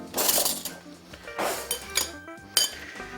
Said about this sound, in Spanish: Y lo que hacéis es revolver.